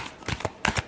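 Tarot cards are riffled and shuffled by hand in quick, close papery bursts, with a short pause between two rapid flurries.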